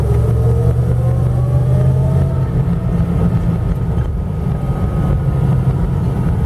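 A 1977 Dodge Ramcharger SE with a 440 engine crawls along in third gear, 2-wheel drive low range, at 10 to 15 mph, its steady loud engine drone and rumble sustained throughout with slight shifts in pitch.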